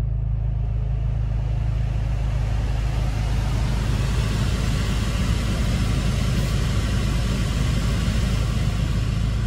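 An Abarth 595 Competizione engine idles steadily with a low, constant rumble and a faint hum, no talking, unchanging throughout.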